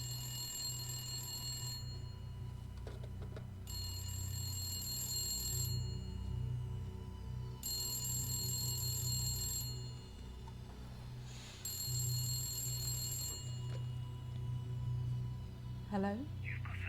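In an FMV video game, a telephone rings four times in an even, repeating pattern, each trill lasting about two seconds over a low background hum.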